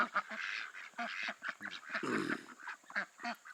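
Farm geese call loudly in a rapid string of harsh honks close by, with one longer, rougher honk in the middle and no talking over them.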